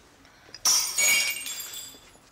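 A wine glass shatters in a domestic drama scene: one sudden, loud crash, then bright tinkling shards that scatter and fade over about a second and a half, with no voices.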